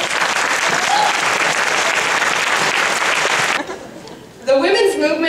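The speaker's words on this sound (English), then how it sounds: "Please give a round of applause for the Burger Marx Foundation." An audience at a plenary session of the 2012 National NOW Conference gives loud, sustained applause that cuts off after a few seconds, followed by a brief lull before a voice starts speaking.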